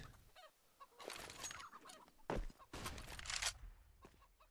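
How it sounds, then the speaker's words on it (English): Chickens clucking and squawking on the Inferno map in Counter-Strike, several short bursts of agitated bird calls mixed with faint game noise. "Anybody want to shut up those chickens for me?"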